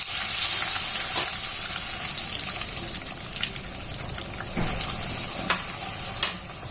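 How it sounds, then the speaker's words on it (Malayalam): A sweet bread candy mixture is stirred with a spoon of vanilla essence in a pan, giving a continuous wet sizzling hiss with occasional scraping strokes and soft clinks, close and fairly loud. "ഒരു സ്പൂൺ വെനില എസൻസ്, നല്ലോണം മിക്സ് ചെയ്ത് കൊടുക്കുക."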